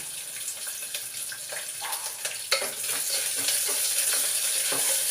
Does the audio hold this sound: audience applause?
no